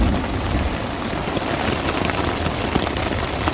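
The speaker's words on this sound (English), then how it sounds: "It's now hailing." Hail pelting a tarp shelter during a thunderstorm while backpacking the Horse Thief Lake loop in the Black Hills, a dense, steady patter of hard drops close by with no talking.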